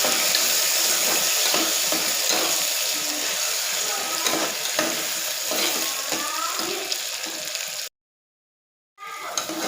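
Tomatoes sauté with golden onions in a pan for mushroom biryani, giving a loud, continuous hissing sizzle with faint stirring scrapes; the sound cuts out to silence for about a second near the end, then resumes.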